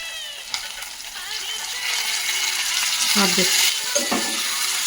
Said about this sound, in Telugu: ఇప్పుడు ముందుగా మనం ఫ్రెష్గా కడిగి పెట్టుకున్న చికెన్ని ఇందులో వేసుకోవాలి